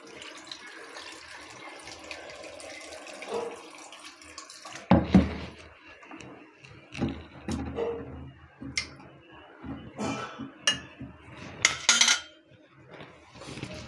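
Water runs from a tap into a cooking pot for boiling potatoes, a soft continuous splash broken by clanks and knocks of the pot and utensils, close by and fairly quiet.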